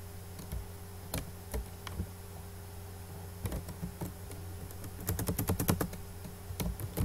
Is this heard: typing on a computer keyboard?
yes